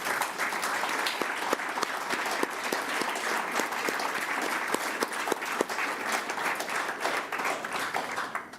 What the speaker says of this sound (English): please stand so we can give you a round of applause for a job well done